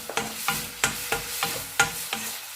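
Vegetables and egg noodles are stir-fried in a pan with black pepper, a rhythmic series of about nine scraping stirs over a soft, steady sizzle, close and with no talking.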